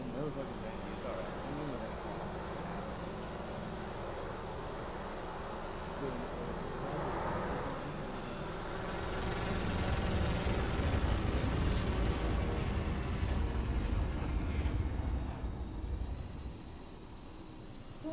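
Spaceship flyby in the Elite Dangerous space game: a broad, steady engine rumble and roar that swells in the middle and eases off toward the end, with voices talking over it.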